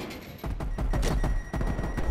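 Rapid, loud gunfire from a multiplayer shooter video game, with dense bursts of repeated shots that stop briefly around the middle and then resume, close and punchy.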